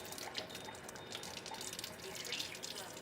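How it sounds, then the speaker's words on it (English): Water running steadily through an Enagic Kangen SD501 water machine, a continuous soft hiss and gurgle at low level, close by and without interruption. "Now I'm going to run the flow of the water"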